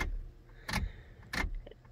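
Keys jangle in the ignition of a bullnose Ford truck, three short metallic rattling bursts, close and fairly quiet, over a low background rumble.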